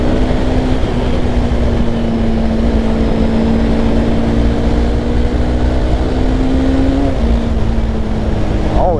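A Honda CBR300 motorcycle engine holds a loud, steady, high buzzing drone throughout. The pitch dips briefly near the end and then climbs again, with wind roar underneath.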